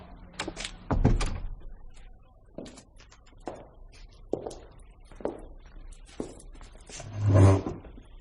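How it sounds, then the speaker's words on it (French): Scattered knocks and thuds in a French radio mystery drama include a door pulled shut with a heavy thunk near the end. Lighter clicks and bumps come before it, sparse and close, with no voices. "entrez et fermez la porte."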